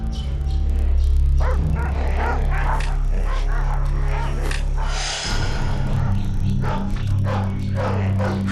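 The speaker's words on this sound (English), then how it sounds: "Hunting dogs. They smell her scent." Hunting dogs bark and yip in a loud, excited pack, overlapping calls and whimpers coming close and continuous over a low rumbling background.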